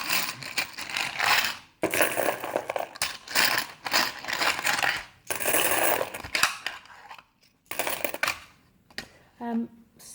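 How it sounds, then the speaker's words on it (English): Coins taken out and handled, clinking and jingling in bursts separated by short pauses, close and fairly loud, with someone talking at times. "I'm just going to get the coins out for a second."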